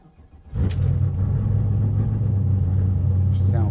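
A Chevrolet Impala SS with a nitrous LSX 454 V8 starts up and settles into a loud, deep, lumpy idle with a heavy low rumble that holds steady throughout.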